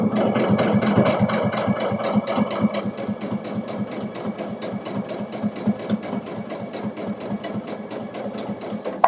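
Sewing machine running a hand-look quilting stitch, a fast steady rhythmic clatter of needle strokes, close and continuous for the whole stretch.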